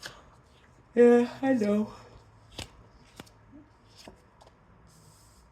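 A deck of tarot cards is shuffled in a few sharp riffling bursts, close and crisp amid quiet, after someone briefly speaks.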